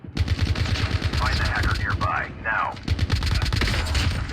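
Rapid bursts of automatic gunfire in a dark-map shooter video game ring out loud and close, with brief pauses between volleys and a voice talking over parts of the firing.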